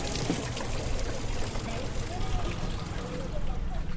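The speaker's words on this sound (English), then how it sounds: "As we just heard, the Newlands Spring is clearly an important water source in the city of Cape Town." Continuous rushing and trickling of water from the Newlands Spring in Cape Town, a dense, fairly loud flow that holds steady throughout.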